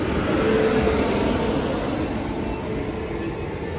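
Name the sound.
Darbhanga Sabarmati Express train arriving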